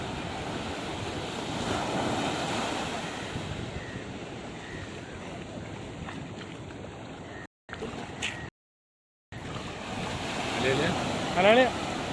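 Sea waves wash steadily at Kovalam beach, a continuous surf roar with wind buffeting the microphone, a couple of brief dropouts, and faint voices in the background.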